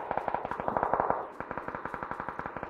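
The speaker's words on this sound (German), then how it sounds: "ich habe einen Schuss gehört" Rapid bursts of automatic gunfire in the PUBG battle royale game on the Erangel map, around twenty sharp evenly spaced shots over a few seconds, loud and close with a slight echo, heard alone.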